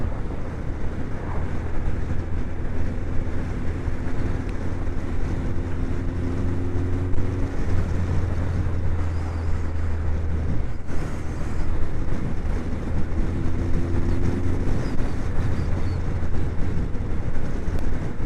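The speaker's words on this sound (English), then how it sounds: "It is very windy." Steady, roaring wind buffets a microphone outdoors, a continuous low rumble with gusts that swell and ease throughout.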